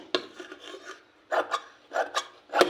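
Cloth is cut for a sleeve in short, raspy, scraping bursts that come in quick pairs, close and fairly loud with nothing else heard.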